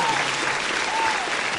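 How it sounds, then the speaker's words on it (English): Applause from a radio podcast crowd, a dense, steady wash of clapping that carries on evenly throughout at close, loud level. "Let's get them claps,"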